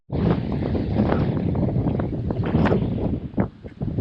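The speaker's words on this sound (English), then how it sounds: "it's a very windy day, as you can tell from all the kite surfers and sailors out and about" Strong, steady wind roars into the microphone at a San Francisco marina with sailboats and kite surfers nearby, a loud continuous rumbling gust with no talk.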